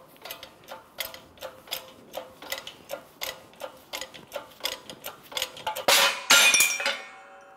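Old wheel bearing being pressed out of a Toyota Sienna steering knuckle with a press tool: a steady series of sharp metallic ticks and clinks, then a louder crackling, grinding burst near the end as the bearing breaks free.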